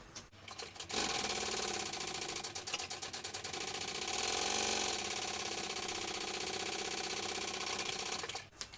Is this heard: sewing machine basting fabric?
yes